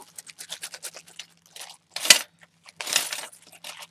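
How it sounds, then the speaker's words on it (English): A bunch of metal keys, part of a haul of shop goodies, jingling and clinking in a series of bright rattling bursts close by, with brief pauses between shakes and no talk. "Look at these keys."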